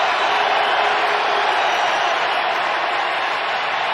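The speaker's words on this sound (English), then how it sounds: "this crowd noise really starting to show their impact on the offense" Dense roar of a football stadium crowd at an NFL game between the Pittsburgh Steelers and New York Jets, a steady loud wash of massed voices holding level throughout with no distinct cheers.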